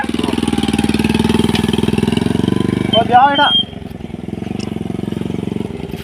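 A motorbike engine idles with a rapid, steady putter, briefly revs, then settles back to a quieter idle. People talk over it in a village setting.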